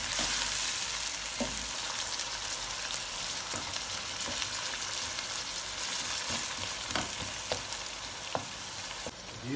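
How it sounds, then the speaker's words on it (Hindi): Tomato paste frying and being stirred in a pot for biryani, a constant bright sizzle with repeated light scraping and knocks of the spoon throughout, with no talking. "ये भी ये टमाटर पेस्ट सारा काफ़ी मिक्स हो गया अच्छे तरीके से।"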